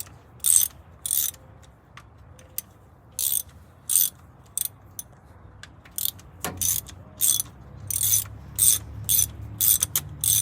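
Ratchet wrench loosening rocker arm shaft bolts on the engine of a long-abandoned 1981 Dodge Mirada dirt track car, bursts of quick clicking ratchet strokes repeating close and crisp, separated by short pauses, with no talk.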